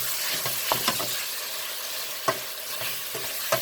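Ground beef sizzles steadily in a hot pan while a cooking tool scrapes and taps through it, breaking up the meat with several sharp, irregular strokes.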